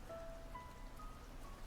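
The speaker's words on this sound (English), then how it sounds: "I love this rain sound." A Tamagotchi toy plays a faint electronic rain effect: a soft, hissing patter with a few thin beeping tones over it, quiet and steady.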